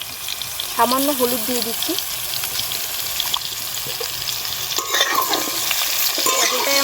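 Pointed gourd pieces fry in a little oil with turmeric in a pan, a steady close sizzle broken by stirring scrapes, with a short spoken line over it.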